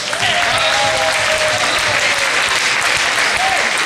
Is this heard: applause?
yes